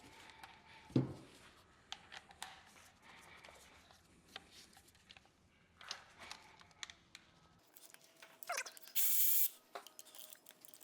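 A hand ratchet clicks in short, quiet bursts while loosening 14 mm bolts on the rear motor mount of a GR Corolla, with clanks of tools and metal in a garage between strokes.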